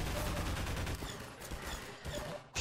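Rapid gunfire from a shooter game set in Half-Life 2's Nova Prospekt, dense bursts of shots filling the whole stretch at steady loudness with a brief dip near the end.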